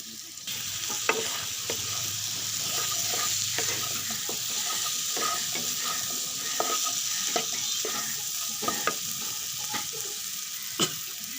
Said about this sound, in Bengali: এখন এর মধ্যে ঝিঙ্গা ছেড়ে দেব।